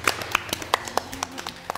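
A few scattered hand claps from a quiz-show audience, sharp, separate and fairly close, with no talk over them.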